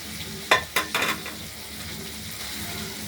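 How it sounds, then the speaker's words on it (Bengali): Potato pieces frying in a pan for a potato and paneer curry, a constant nearby sizzle broken by a few sharp metallic clinks of a spatula against the pan around the middle, then frying alone. "দেখতে থাকুন আলুটা ভাজা হচ্ছে"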